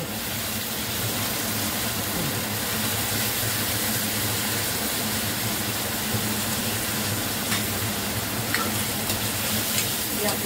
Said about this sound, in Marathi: हे आपल्याला अगोदर परतून घ्यायचं व्यवस्थित.